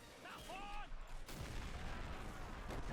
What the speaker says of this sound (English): That was a heroic grenade.